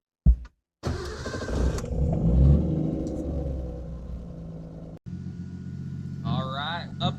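A car engine fitted with a high flow fuel pump cranks and catches, then runs with a steady close rumble, and a voice talks over it.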